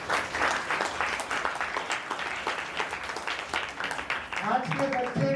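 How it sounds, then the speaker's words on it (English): Sustained applause for students at an Independence Day school event, a dense crowd clapping steadily throughout, fairly loud, with a brief louder burst toward the end. "Give a big round of applause to all the students."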